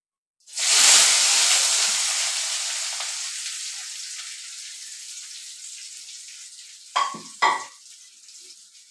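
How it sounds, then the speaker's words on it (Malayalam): Long beans with onion and green chili dropped into a hot pan: a loud sizzle bursts in, slowly fades to a steady hiss, then two sharp stirring scrapes near the end. "ഒരു സവാള എടുത്തിട്ടുണ്ട് പിന്നെ ഒരു പച്ചമുളകും എടുത്തിട്ടുണ്ട് നമുക്ക് ഇത് നന്നായിട്ട് വയറ്റി എടുക്കാവേ"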